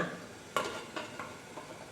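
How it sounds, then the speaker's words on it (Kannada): Steel idli plates set down into a steaming vessel of boiling water for ragi idli, one sharp metallic clank followed by a few softer knocks and scrapes, close and fairly quiet. "ಈಗ ಇಡ್ಲಿ ಪ್ಲೇಟ್ಗಳನ್ನು ಅದರೊಳಗಡೆ ಇಡೋಣ."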